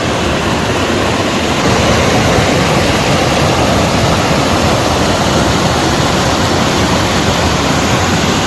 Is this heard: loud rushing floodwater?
yes